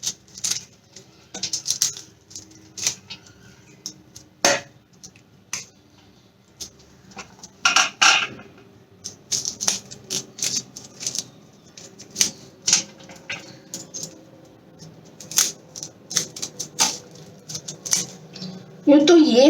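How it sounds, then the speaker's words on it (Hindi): A knife cuts and snaps the stalks off whole cauliflowers in a kitchen, producing scattered crisp cuts, taps and clatters at close range while a person talks throughout. "इस तरह से पीछे से डंठल बिल्कुल छोटी कर दीजिए। सभी गोभियों से इस तरह से"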